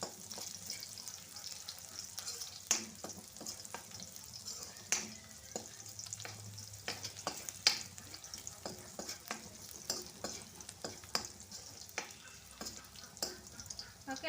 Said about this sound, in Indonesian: langsung aja Bunda masukkan bawang merah dan bawang putihnya